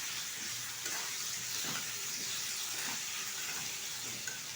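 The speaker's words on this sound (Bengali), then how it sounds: "ভালোভাবে সবগুলো উপকরণ একসাথে কষিয়ে নেব" Turmeric, salt and chili powder sautéing and stirred together in a hot pan for a soybean, potato and pointed gourd curry, giving a steady close sizzle with faint scraping strokes throughout.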